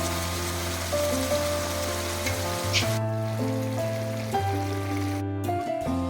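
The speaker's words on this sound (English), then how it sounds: "Now we have transferred all the carrots into the non-stick pan." Grated carrots for carrot halwa sizzle in a non-stick pan, a steady broadband frying hiss with a low background hum, continuous and fairly close, no talking.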